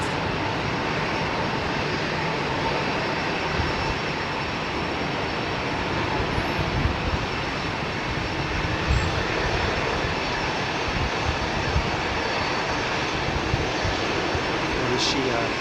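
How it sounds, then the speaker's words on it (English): A Boeing 737 is moved forward at London Heathrow Airport amid a steady, loud broadband jet-engine roar that holds constant throughout, with no break or distinct change in pitch. "they're bringing this 737 forward"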